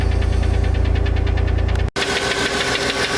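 A 1993 Ford F-150's 4.9-liter inline six-cylinder engine idling with a steady, rapid ticking, loud and close, briefly cutting out before the running noise resumes.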